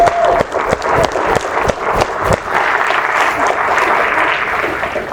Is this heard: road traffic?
no